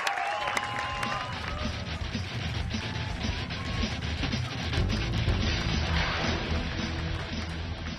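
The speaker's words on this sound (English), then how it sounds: "Round of applause for him, folks." An audience at a comedy show claps and cheers continuously, dense and steady, with a few louder whoops rising above the applause.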